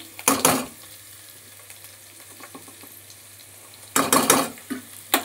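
Okra frying in a pan with salt and turmeric, stirred in two loud scraping bursts at the start and near the end, a quieter sizzle and faint clinks between them.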